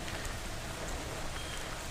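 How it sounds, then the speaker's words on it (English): Steady rain falls during a bicycle commute, a dense, even hiss of drops that stays constant and fairly loud with nothing else standing out. "the rain that falls from the sky is pretty clean"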